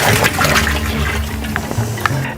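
Cow dung is tipped into water held in a drum while mixing an organic fertiliser, giving a continuous sloshing, gurgling rush of liquid up close, with small splashes near the end.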